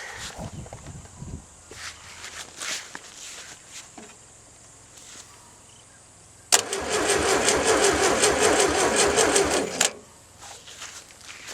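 A Volkswagen car engine being cranked after an earth cable repair: short uneven bursts at first, then a steady rhythmic whirr of the starter for about three seconds, close and loud, before it cuts off.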